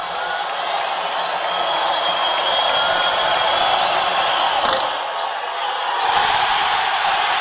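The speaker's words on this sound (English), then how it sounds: "You can tell from the crowd that Cadeau didn't get the bounce" A college basketball arena crowd at a Carolina at Miami game reacts to a late free throw with a loud, sustained murmur and roar that dips briefly and swells again.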